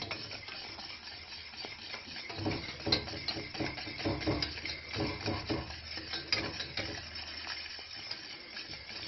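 A utensil stirs and scrapes in a pan as softened gelatin sheets are mixed into warm syrup, with soft repeated clinks and swishing at close range and no talking.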